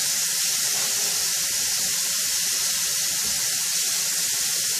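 Beef short ribs browning in a hot pan give a steady, dense, close sizzle that runs unbroken and alone throughout.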